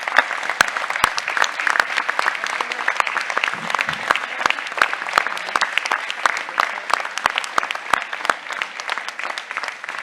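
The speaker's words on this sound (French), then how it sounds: "Merci de les applaudir encore une fois." An audience at a 2023 New Year's greetings ceremony claps for public service workers, with thin scattered applause and distinct individual claps popping out over a quiet hall murmur.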